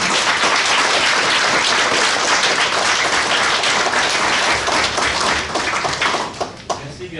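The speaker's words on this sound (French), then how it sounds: "Je pense qu'on devrait applaudir les parents." Audience applauding the parents at a school gathering: loud, dense, close clapping from many hands that holds steady for several seconds, then thins out and fades to a few scattered claps at the end.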